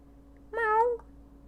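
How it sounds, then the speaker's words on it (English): A cat in the dating game Let's Date Oji-Sans! gives one soft, clear meow lasting about half a second over a quiet, low ambient hum. "Meow. Was that a cat?"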